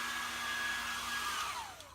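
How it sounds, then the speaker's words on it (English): A hair dryer runs steadily nearby during an indoor demonstration of rapid-drying flash paper, cotton, wool and string, giving a continuous airy whoosh with a faint motor whine that falls slightly in pitch near the end. "there's the hairdryer going again"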